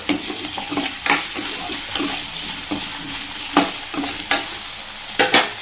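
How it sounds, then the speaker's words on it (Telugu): Chopped onion and tomato fry in a pan with a constant sizzle, punctuated by regular scraping strokes of a spoon stirring the mixture, close and fairly loud. "పచ్చి స్మెల్ రాకుండా ఉండడానికైతే మనం ఫ్రై చేసేసుకుందాం"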